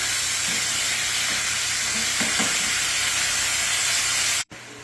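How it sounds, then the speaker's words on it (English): Hot Italian sausage and braciole browning in oil in a pan, a steady broadband sizzle and hiss with a few faint knocks, continuous and fairly loud before cutting off abruptly near the end. "So we're going to let that meat brown."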